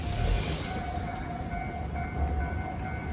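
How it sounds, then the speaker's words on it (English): A train passes on the tracks at a Japanese countryside station in Ehime, a steady loud rumble of rolling wagons with faint whining tones, heard close and continuous with no talking. "I hear train track."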